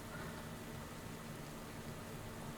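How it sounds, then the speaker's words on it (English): Steady rain in the cycling game Pro Cycling Manager 19, a quiet, even hiss of falling rain with a faint low hum beneath, no speech. "as the rain goes to kick off again"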